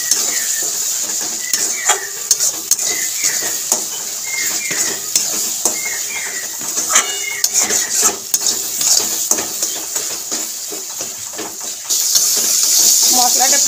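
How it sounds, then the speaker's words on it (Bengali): Spice paste with onion and turmeric is sautéed in a pan for a Bengali tilapia curry, with a soft sizzle under repeated scraping and clinking of a spoon against the pan, up close. "দিয়ে মশলাটাকে ভালো করে কষাবো"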